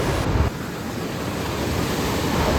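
Cool wind blowing along Marina Beach at sunrise, a steady broadband rush with surf-like roar, loud and continuous, briefly gustier at the start, with no voices.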